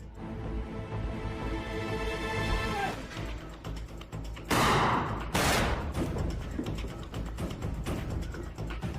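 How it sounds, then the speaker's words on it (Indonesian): A gunfight scene from an Indonesian film, with gunfire bursting under a dense, loud soundtrack and a couple of sharp sweeping whooshes standing out over the steady rumble. "Di sana mereka pun terlibat baku tembak"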